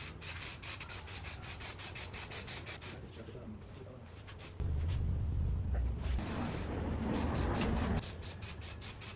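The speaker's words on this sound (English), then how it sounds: "I'm gonna go around and I'm gonna spray this whole headline down with adhesive." Aerosol adhesive sprayed across a car headliner during a starlight install in an MK5 GTI, heard as steady hissing bursts of spray with rubbing and handling noise, a stronger continuous spray passage in the middle, fairly close.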